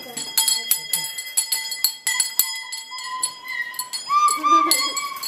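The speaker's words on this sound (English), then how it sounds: "Somebody playing the bell, too." A small hand bell played by a child in a home, struck in a quick irregular run of bright metallic rings that overlap, then sustained ringing tones near the end, close and fairly loud with voices talking over it.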